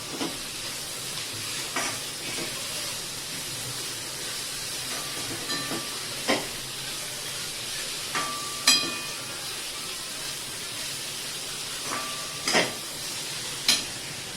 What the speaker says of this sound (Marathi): तीन ते चार चमचे आलं लसूण पेस्ट घेतली आहे ती टाकून घेऊया छान मस्त परतून घेऊया